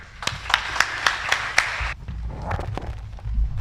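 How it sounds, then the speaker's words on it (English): Audience applause greets a guest speaker at a hospitality school orientation, a short burst of claps in a room that gives way to a quieter stretch of low rumble. "please give a round of applause for Malaika"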